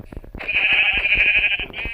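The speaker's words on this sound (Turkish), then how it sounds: "Aha vallahi koyun bulduk arkadaşlar." A single long, nasal Minecraft sheep bleat, loud and close, held for over a second over a steady rhythmic tapping.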